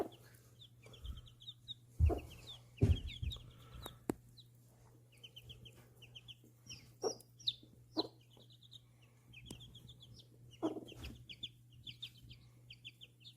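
Several Silkie chickens, a hen with chicks, clucking and peeping close by, with short repeated high chirps of chicks scattered throughout and a few sharper thumps.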